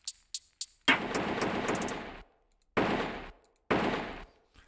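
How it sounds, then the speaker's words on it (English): Three sharp gunshots ring out, then long bursts of rapid automatic gunfire, loud and close, separated by short silences. "We have some gunshots at the end for some reason."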